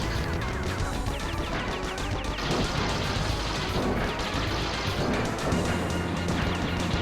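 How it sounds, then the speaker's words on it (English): Crashing, shattering game sound effects from Blaster Master: The Next Generation, a dense run of loud smashes and booms filling several seconds with no talk over it. "Well, it made a shattering noise."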